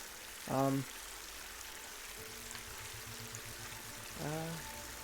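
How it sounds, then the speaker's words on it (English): Steady flowing, trickling water ambience from the video game Horizon Forbidden West runs softly and evenly through the whole stretch, with two brief vocal grunts near the start and end. "That still has the water sounds."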